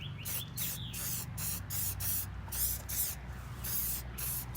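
Spray cleaner misted onto the plastic panels of a 2015 Honda CRF250L motorcycle, about a dozen short, close hissing bursts in a quick steady rhythm.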